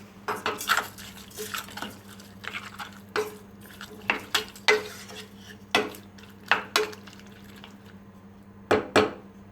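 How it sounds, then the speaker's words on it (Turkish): Stirring tomato soup with olive oil in a pot, a spoon knocking and scraping against the pot in irregular clinks and taps, close and fairly loud, with no talk. "Şimdi bunu bir tur karıştırıyorum"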